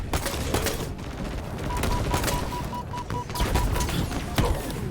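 Dense gunfire in the video game Halo Infinite: rapid overlapping bursts and shots, loud and continuous, with a steady tone running under parts of it.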